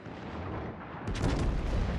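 A heavy main-battery salvo from the battleship Jean Bart in World of Warships bursts in after a second of steady engine hum, then rolls on as a loud, sustained booming rumble.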